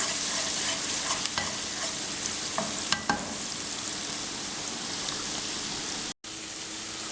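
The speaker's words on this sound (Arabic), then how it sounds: "هنحمر البصله كده كويس" Onions frying steadily in a pan for a homemade fried-chicken meal, a continuous loud crackling sizzle with a few sharp ticks of a spoon, briefly cut out near the end.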